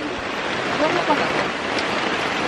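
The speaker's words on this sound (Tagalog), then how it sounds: "Malakas ang ulan." Steady, dense hiss of heavy rain pouring down, filling the space evenly with no breaks.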